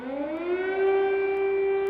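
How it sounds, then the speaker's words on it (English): Air raid siren sounding over the Ukrainian capital, Kyiv, a single steady wail that rises in pitch and then holds a loud sustained tone, heard alone without talk. "Air raid sirens sounded in the Ukrainian capital this morning"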